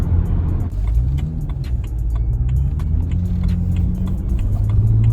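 A BMW fitted with a Burger Motorsports pedal tuner accelerates from inside the cabin, its engine rising in pitch in a loud, steady climb over road rumble, with faint ticking clicks throughout.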